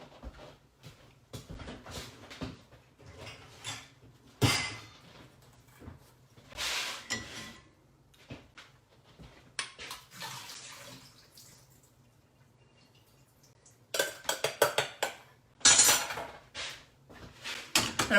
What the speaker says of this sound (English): I'm gonna strain my quinoa